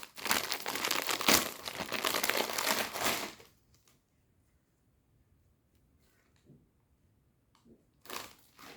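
Crinkly plastic wrapping on a Labubu blind box is torn and crumpled up close in a loud three-second burst, then falls mostly quiet with faint rustles and one last short crinkle.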